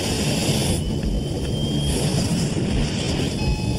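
An Air France Concorde accelerates down a 2.5-mile runway on takeoff, a loud, continuous roaring engine rush that holds steady and close with no talk.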